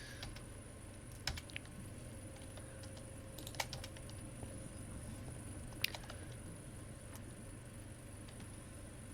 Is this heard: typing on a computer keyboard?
yes